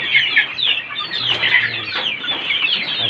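Gamecock chickens at a poultry farm cluck and chatter close by, a busy overlapping run of short calls without human speech.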